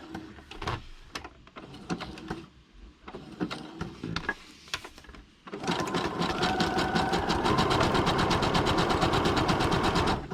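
A sewing machine zigzag stitches through paper, turning a corner: a few short, intermittent bursts of stitching, then a steady, loud, fast run of close rhythmic needle strokes.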